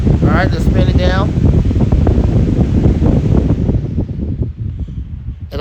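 A five-blade fan with a dual ball bearing motor spins down from full power, its loud rushing whoosh thinning and easing toward the end.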